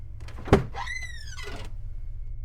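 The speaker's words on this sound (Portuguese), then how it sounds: "A porta do motorista se abriu, rangendo com um barulho horrível." An old, rusty car's driver door creaking open as a sound effect: a sharp latch thunk followed by a long, rising and falling metallic squeal, close and clear against a quiet background.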